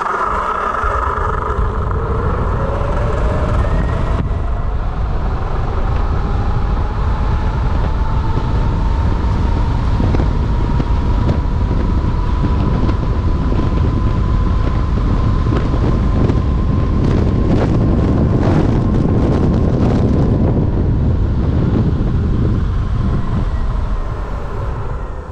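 A battery-powered electric vehicle accelerates hard along an empty straight road on a drag run, a rising whine sweeping steadily upward beneath loud, constant wind buffeting on the microphone, with no talking.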